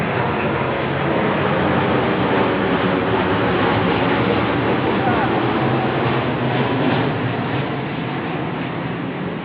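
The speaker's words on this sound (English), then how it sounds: "the planes will completely suppress you right over your head, right over your head." Low-flying airplanes pass directly overhead, a loud, continuous broadband engine roar that holds steady for the whole stretch and fades only slightly at the end.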